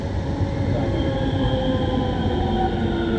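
A Paris Métro Line 1 train of MP 89 rubber-tyred stock runs along with passengers on board, giving a steady loud rolling rumble with tonal motor whine lines rising slightly, continuous throughout.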